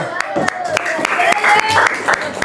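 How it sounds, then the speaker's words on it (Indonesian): A class of students claps sharply in a fast, irregular rhythm, and a voice talks over the clapping. "Oke, tepuk tangan lu."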